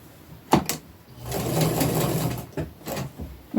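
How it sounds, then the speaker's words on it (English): A sewing machine stitches a fabric applique in a short close burst, after a couple of clicks and handling knocks. "You just sew in the middle of it."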